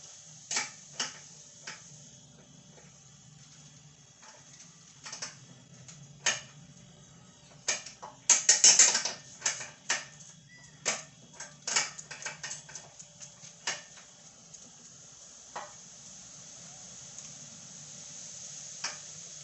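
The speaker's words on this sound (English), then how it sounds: "I'm going to make sure that all these bolts are tight" While a wheelbarrow is assembled, bolts are tightened by hand with a wrench, giving scattered sharp metallic clicks and ticks, some in quick clusters, over a quiet low background with no talking.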